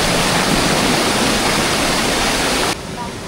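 Stream water pours steadily at an outdoor bathing spot, a loud, continuous rushing wash that stays even throughout and drops slightly in level near the end, with no speech.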